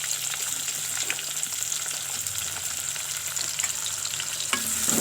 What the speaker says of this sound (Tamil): வெங்காயத்தை நல்லா பொன்னிறமாக வதக்கிடுங்க